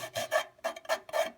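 Rhythmic rasping strokes of 320 grit sandpaper rubbing a toy Hitachi EX200 excavator, about five quick back-and-forth passes, close and moderately quiet with no talk.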